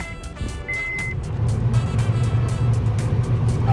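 A car engine is cranked and catches during an oil change and maintenance light reset, a short chime followed by the engine firing up and settling into a steady, close idle rumble.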